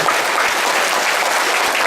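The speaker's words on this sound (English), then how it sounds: "Give a big clap to Swamiji." An audience claps together at a spiritual gathering, loud and continuous throughout without talk.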